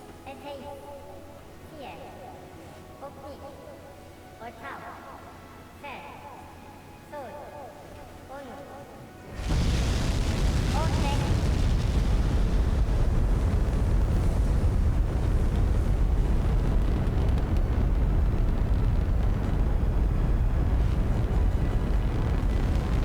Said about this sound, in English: one of the coolest parts of this game is we get these great launch effects, even with the launch countdown